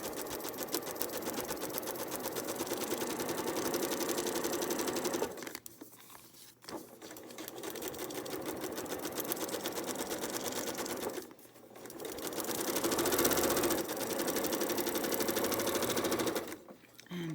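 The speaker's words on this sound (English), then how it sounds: "You're going to want to start sewing outside of the seam allowance and just continue through the seam allowance onto the line." A sewing machine stitches a seam on a foundation paper pieced quilt block, running in fast, even bursts with brief pauses between runs, loud and close.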